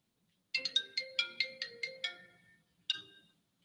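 A personal phone rings with a bright electronic tone, a quick run of repeated chirps followed by a pause and one more chirp, clear and fairly quiet in an otherwise silent room.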